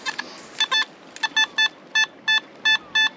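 A Simplex metal detector fitted with a Detech Ultimate 13 coil gives its signal tone over copper on a beach: a string of short, clear electronic beeps in a steady rhythm, close and alone with no talk.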